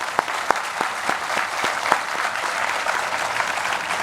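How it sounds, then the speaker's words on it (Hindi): Steady applause from a crowd at an education department project inauguration, with a few sharper, louder claps standing out near the start over the continuous background clapping. "मैं क्लैप के लिए एक जोर से ताली बजा रहा था"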